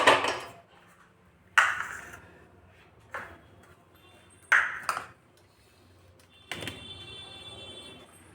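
Metal clanks and thuds in a home kitchen as a kadhai (wok) is set onto a gas stove, five separate knocks spaced a second or two apart, the last with a lingering ring.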